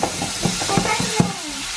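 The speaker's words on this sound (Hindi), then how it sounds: "काजू फ्राई किया और उसी घी में डालना है ये कट किया हुआ बनाना है ना" Cut banana pieces frying in ghee after cashews, a close, moderately loud sizzle broken by a few sharp stirring knocks and scrapes against the pan, with no voices.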